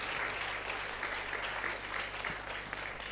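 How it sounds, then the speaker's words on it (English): Audience applause at a girls' leadership talk, a steady dense wash of many hands clapping at moderate distance, fairly quiet, with no voices over it. "Can we have a huge round of applause for Andrea"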